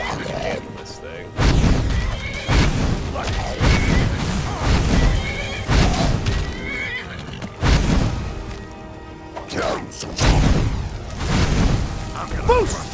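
A horse in the video game Skyrim whinnies repeatedly, loud and close, amid clopping hooves, heavy booms and crashing combat sounds, with game voices mixed in.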